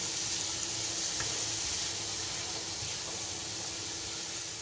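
Onion frying in a pan gives a continuous, even sizzling hiss that holds steady throughout, fairly close and with no talking.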